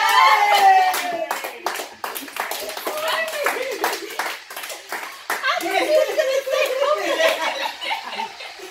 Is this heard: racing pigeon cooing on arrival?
no